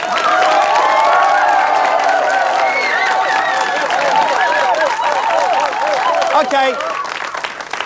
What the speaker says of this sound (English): Every time you come in through the door, you get a rapturous round of applause.